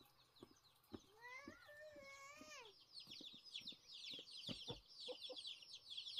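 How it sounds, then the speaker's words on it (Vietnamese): Chickens clucking and a rooster-like call in a domestic setting, with a rising, warbling vocal run early on followed by busy scattered clucks and chirps, fairly faint and close-ish, with no talking. "còn gà với qué nữa chứ"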